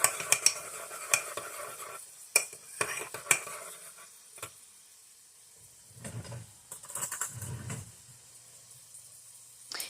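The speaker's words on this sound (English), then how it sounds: "I'm just using another spoon to get some seasoning and everything that got stuck on the spoon. Get that off so I can mix it in really good" A spoon stirs burrito filling in a pan, producing sparse metallic clinks and scrapes against the cookware, with faint sizzling swells between them, close and fairly quiet with no talking.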